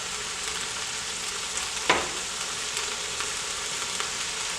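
Vegetables sweating in a soup pot for canning, a steady soft sizzle and hiss running throughout, close and fairly quiet, with one brief scrape partway through.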